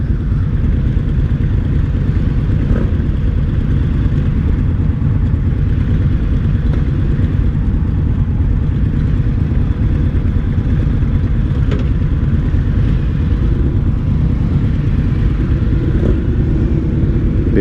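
An Indian Scout 60 motorcycle is ridden, giving a loud, continuous low engine rumble and wind roar close to the rider that holds steady for the whole stretch.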